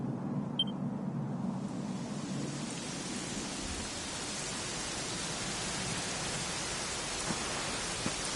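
Steady rain falling in the video game Dragon Quest XI, a dense even hiss with a faint low rumble underneath, continuous throughout with no voices.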